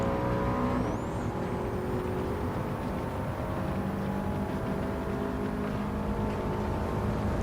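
Race car engine in Gran Turismo 7, held at high, over-revved pitch as it pulls down a long straight, a loud, steady and continuous drone with no talking.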